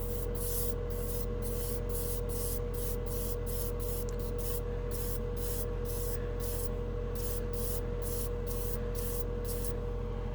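A Badger Patriot 105 airbrush spraying metallic acrylic hobby paint gives a steady, loud hiss throughout, broken into short regular bursts as the trigger is pulsed.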